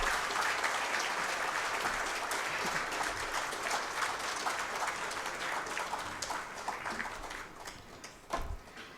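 An audience at a book launch for Swallowing the Sun applauds warmly, a dense wash of clapping that holds steady for several seconds, then thins and fades with a few last claps.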